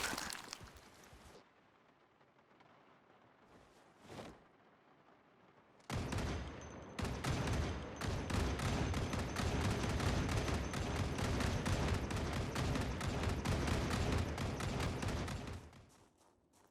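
Several guns firing close by in Project Zomboid, a dense, loud burst of overlapping shots that rattles on for about ten seconds after a couple of isolated bangs earlier, with no talking.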